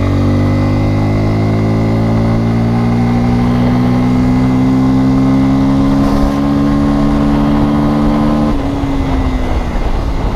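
A Bajaj Pulsar N250 motorcycle pulls up a steep slope in third gear, its engine droning loud and steady with pitch slowly rising under throttle, then easing off toward the end.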